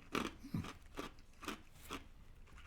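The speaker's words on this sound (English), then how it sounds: "Chewing on some ice." Ice being chewed close to the mic, with several sharp crunches spaced about half a second apart, each one a short broadband crackle at low volume with no talking.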